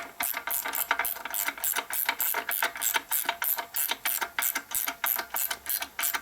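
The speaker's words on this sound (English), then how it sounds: "the last 1/4 inch we're going to do with wrench" Wrench ratcheting a bolt into a Harley M8 145ci big-bore finless race cylinder, a steady run of quick rhythmic clicks close up and fairly loud, with no talk.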